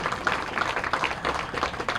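An audience at a yajna ceremony claps together in steady, dense applause that carries on evenly for a couple of seconds at moderate distance.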